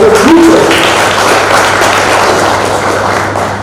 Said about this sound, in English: a huge round of applause to all of you